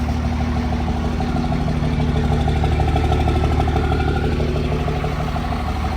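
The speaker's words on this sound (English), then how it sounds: "it sounds like the exhaust might be rattling on something." A third-generation Cummins diesel pickup with a new engine and worn injectors idles steadily and loudly, its even drone carrying a continuous metallic clatter from an exhaust that seems to rattle against something.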